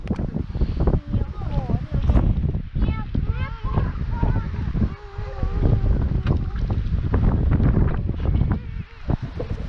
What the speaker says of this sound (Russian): Сегодня ветер такой.